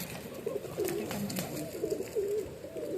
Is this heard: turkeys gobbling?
no